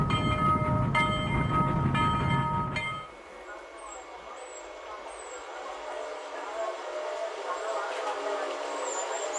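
A train on the Serra do Mar line, heard in a ride film, rolls along with a steady rumble. It starts louder with tonal ringing, then settles into a quieter, continuous run.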